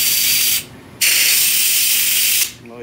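Compressed air blasts out through a propane torch nozzle in two long, loud, steady hissing bursts separated by a short pause, with no talk.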